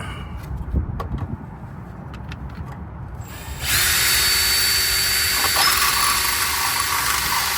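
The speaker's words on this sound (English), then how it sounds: "11/32 drill bit, because the rivnut does not fit quite yet. We're gonna open those holes up just a little bit." A drill with an 11/32 bit enlarges holes in a Toyota or Lexus splash shield for rivnuts; handling clatter gives way to a loud sustained drill whine from about the midpoint onward, close by.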